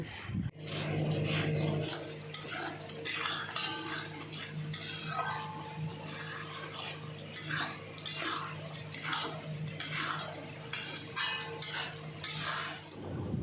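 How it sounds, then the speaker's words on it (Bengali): Spice paste of ground chilli, cumin, ginger and turmeric with onion, garlic and salt stirred and fried in a pan for fish curry, with steady sizzling and repeated scraping, clattering spoon strokes throughout. "লঙ্কা বাটা জিরে বাটা আদা বাটা হলুদ লবণ দিয়ে দিলাম সব কিছু দিয়ে খুব ভালোভাবে মশলাটা কষাতে থাকবো"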